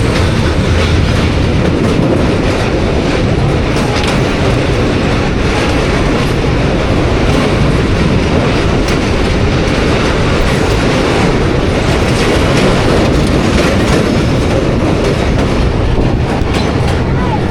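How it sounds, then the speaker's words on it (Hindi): The Rehman Baba Express passenger train runs across the bridge over the Indus River, a loud, steady, close rumble of wheels and carriages that never lets up, heard from on board. "तो अभी आप माइटी इंडस रिवर से पास हो रही है हमारी ट्रेन।"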